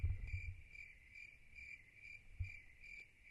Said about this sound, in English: like the crickets chirping sound